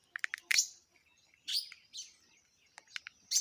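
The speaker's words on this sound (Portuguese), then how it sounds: "Os passarinhos, rapaz, faz um negócio desse." Small birds chirp at dawn in the Brazilian backcountry, close and clear, in quick bright bursts of tweets separated by short pauses, with nothing else heard.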